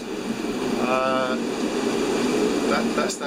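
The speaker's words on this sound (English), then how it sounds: "You can hear the wind now" Steady, strong gale-force wind of 25 to 40 knots roars and rushes around a sailboat, with a faint whistling tone rising briefly, loud and continuous throughout.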